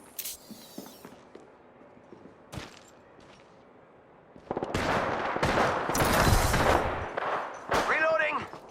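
Apex Legends gunfire: scattered single shots at first, then a dense burst of rapid automatic fire and impacts that fills the second half loudly, with game effects mixed in.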